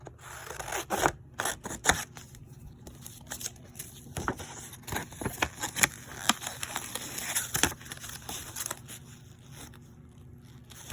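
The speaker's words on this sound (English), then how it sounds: "I'm gonna cut my little bit off here." Scissors cut a little piece off with a series of sharp, close snips and crisp blade scrapes, irregularly spaced and separated by short quiet gaps, with no one speaking.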